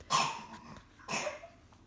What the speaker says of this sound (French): vous avez le petit qui tousse